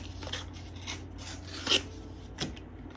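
Paper being ripped off a card while making a junk journal, heard as a few quiet, close rasping tears and rubs spread over a few seconds with no talking.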